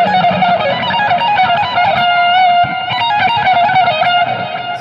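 Fast electric guitar riff from a worship song, played up to speed with hammer-ons and pull-offs through an effects-laden distorted tone, a steady run of quick bright notes heard close and alone.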